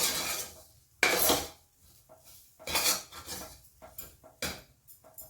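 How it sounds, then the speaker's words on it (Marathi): Metal spoon scraping and clinking against a pan and plate as onion-fried masala is scooped out in a home kitchen, several sharp scrapes with quiet gaps between. "ताटात काढून घेऊया पहा या ताटामध्ये मी हा मसाला काढून घेत आहे"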